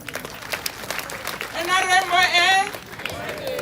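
A crowd at a Ministry of Health ceremony commissioning community health extension workers in Maracha claps in a patchy round, with a loud wavering vocal cheer rising over the applause midway and voices mixed throughout.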